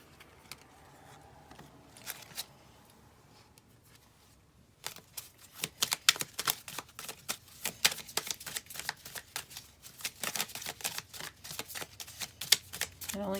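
A deck of cards is shuffled close by, starting with quiet handling and then a long run of fast, crisp riffling flutters in irregular bursts, with no talk.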